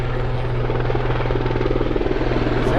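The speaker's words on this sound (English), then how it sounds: "what's up with the airplanes, dude?" An aircraft passes overhead while people fish outdoors in Washington D.C., a loud, steady, throbbing rotor-like drone with a rapid pulsing beat that stays constant throughout.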